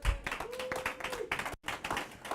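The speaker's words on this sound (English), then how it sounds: "Give her a round of applause." An audience at a small business livestream event claps briefly for a woman, a short, moderately close patter of hands with voices mixed in.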